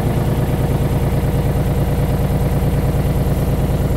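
An excavator engine idles just after start-up, a steady loud diesel rumble with an even mechanical clatter, close by and alone with no talk.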